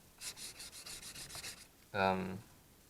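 Fine-grit abrasive paper, 800 then 1500 grit, rubbed over guitar frets in a quick run of about ten short back-and-forth strokes, close and soft, followed by a brief louder tonal ring.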